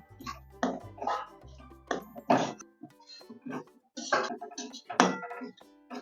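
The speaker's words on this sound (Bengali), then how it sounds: "সুজিটাকে ঘির মধ্যে দিয়ে হালকা করে নেড়ে চেড়ে ভেজে নেব" Semolina stirred in ghee in a pan: irregular spoon clinks and scrapes against the metal come in uneven bursts, fairly close, with a low hum at the start and no talk.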